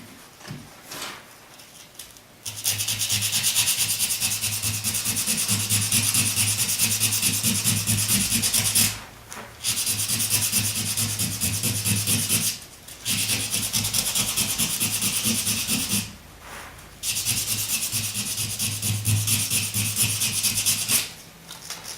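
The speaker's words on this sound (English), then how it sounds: "I'm going to go over it with some sandpaper and rough it up" Sandpaper scrubs old adhesive off a wooden lazy susan in long, steady rasping passes, close and loud, broken by four short pauses between strokes.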